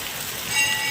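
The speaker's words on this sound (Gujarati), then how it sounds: "જોકે વરસાદ શરૂ છે" Rain falling outdoors by a Khodiyar temple on a riverbank, a brief, steady, even hiss of drops on surfaces without any talk.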